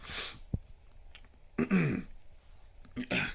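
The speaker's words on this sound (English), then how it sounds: "sorry, just clear my throat." A few short, rough throat-clearing bursts with brief pauses between them, close to the mic in an otherwise quiet room.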